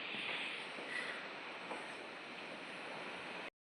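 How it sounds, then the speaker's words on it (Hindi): Vasudhara waterfall roars in a steady, dense broadband rush of falling water that holds an even level throughout before cutting off abruptly. "है वासुधरा वाटरफॉल, झरना।"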